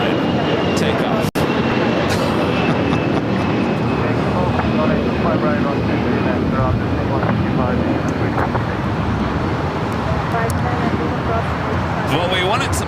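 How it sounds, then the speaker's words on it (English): A Hawaiian Airlines A330-200 jet takes off at LAX on a south side runway, a broad steady roar filling the air with traffic noise mixed in, while people talk over it throughout. "Hawaiian Airlines Flight 61 heading to Kona. It's an A330-200 heading to the south side."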